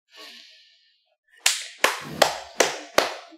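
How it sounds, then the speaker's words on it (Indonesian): A single person clapping hands five times in an even, deliberate rhythm, each clap sharp and distinct in a quiet space, preceded by a faint breathy sound. "Dia tepuk tangan."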